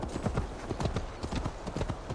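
Hooves clip-clop steadily from a horse in Assassin's Creed Valhalla, a quick even rhythm of close, moderately loud hoof strikes continuing throughout.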